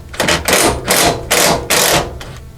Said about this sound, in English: We'll just loosen it with our 17mm socket.